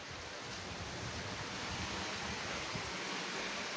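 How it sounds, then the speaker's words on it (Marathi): Steady rushing of a flowing stream near a small temple in the Konkan countryside, a continuous broadband wash of water that stays even and fairly soft throughout, with no voices. "झऱ्याचं पाणी बघा कसलं छान वाटतंय."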